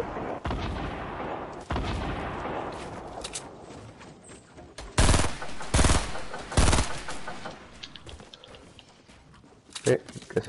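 Sniper rifle shots in an online video game, several sharp loud cracks and booms spaced a second or so apart, mixed with footsteps and game noise while a player talks.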